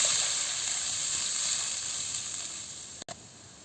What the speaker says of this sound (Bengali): আমি পরিমাণ মতন জলটা দিয়ে দিচ্ছি।